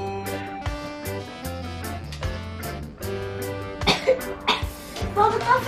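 A child coughs repeatedly in short harsh bursts with throat clearing, close by, amid speech and music in a comedy sketch scene.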